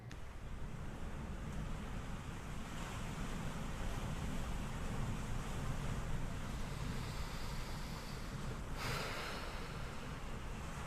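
Ocean waves from a relaxation sound recording called Waves over Jamaica make a steady wash of surf and breeze-like hiss, continuous and enveloping, with a brief surge toward the end.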